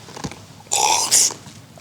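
A voice imitates a slurp with a short, breathy sucking burst of about half a second, then a second sharper, hissier burst right after, all fairly loud and close with no talk around it.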